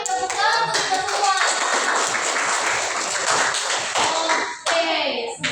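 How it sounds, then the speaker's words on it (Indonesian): Children in a first-grade classroom clap their hands together in a quick, busy burst of close, overlapping claps, with young voices calling out over the clapping. "tepuk tangan untuk kita semua"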